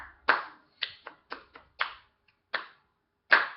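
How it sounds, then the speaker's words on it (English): Hands clap out an uneven rhythm of eight crisp, close claps, some grouped quickly together and others spaced apart, with no voices. "try to clap that rhythm"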